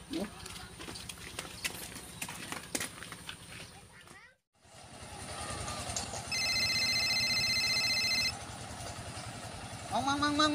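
A telephone rings with a steady electronic tone for about two seconds, set over a busy background of rhythmic clopping and rumbling noise.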